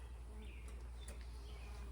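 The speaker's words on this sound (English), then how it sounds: "I have so many bees now" Honeybees buzz at a backyard hive in a queen-rearing setup, making a faint, steady, close hum.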